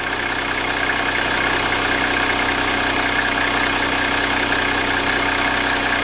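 A Toyota Coaster truck's 4.2-litre diesel engine idles steadily, a continuous, even drone with a slight knocking texture, close and moderately loud, with no voices over it.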